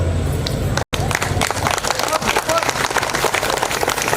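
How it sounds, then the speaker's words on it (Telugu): Audience bursts into spontaneous applause, dense rapid clapping from many hands that holds steady throughout after a brief cut near the start, close and lively. "ఇప్పుడు అడగకుండానే క్లాప్స్ వచ్చినాయి"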